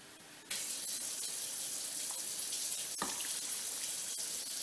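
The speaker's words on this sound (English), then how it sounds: "what this also does is that it rinses the can out" Running water rinses out an empty food can in a home kitchen while dinner is being made: a steady gushing, splashing flow that starts abruptly and keeps going, close and fairly quiet, with no voices.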